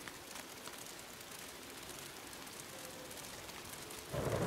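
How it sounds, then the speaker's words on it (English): Steady rain falls in the video game Days Gone, a dense even hiss of drops that holds for several seconds and swells slightly louder at the end, with no voices. "Oh, and it's starting raining."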